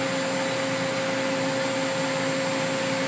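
A Cincinnati Avenger 250MT three-axis CNC lathe spindle runs at 500 RPM, giving a steady, even mechanical whir with a constant hum and no change over the stretch.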